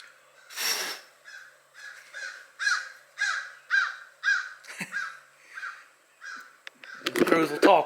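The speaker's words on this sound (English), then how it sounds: "The crows will talk, won't they?" Crows cawing outdoors near a workshop, a steady series of about ten harsh caws evenly spaced, moderately near, with a brief breathy voice sound at the start and a burst of chattering calls at the end.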